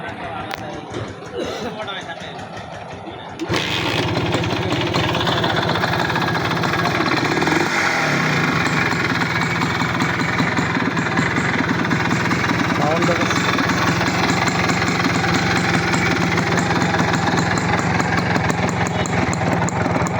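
A Honda CD (Japan H100S) motorcycle engine starts after a few seconds of quiet handling, then idles loudly and steadily up close with a constant even rumble; faint talk is heard before it starts.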